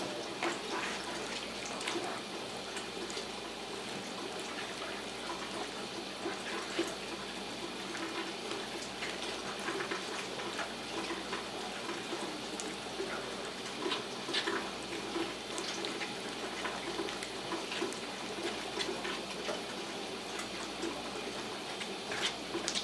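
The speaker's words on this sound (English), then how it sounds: "And I'm adding a third cup of water." Water pours in a steady, even stream into whole wheat bread dough for the whole stretch, a soft constant trickle with no talk.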